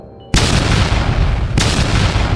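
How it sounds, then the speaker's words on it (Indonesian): Distant explosions rumble from a fantasy battle between demons and shadow hunters, two sudden loud booms striking after a brief quiet start, each followed by a sustained roaring rumble. "Di kejauhan, suara ledakan dari bentrokan antara iblis dan para pemburu bayangan masih terdengar."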